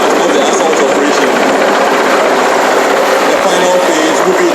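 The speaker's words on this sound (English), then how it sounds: "the insertion of the special forces elements via the helicopter, which is the Mi-17 helicopter of the Ghana Air Force we are seeing right now" A Ghana Air Force Mi-17 helicopter flies overhead during a special forces insertion demonstration at an Independence Day parade, its loud, continuous rotor and turbine roar filling the scene without a break.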